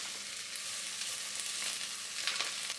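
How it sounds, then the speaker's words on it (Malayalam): Chopped onion and green chilli sauté in hot oil for a beef coconut curry, giving an even, close hiss of sizzling with slight swells of crackle. "ഇനി ഇതിലേക്ക് അരിഞ്ഞു വെച്ചിരിക്കുന്ന ഉള്ളിയും പച്ചമുളകും കൂടി ചേർത്ത് കൊടുക്കാം."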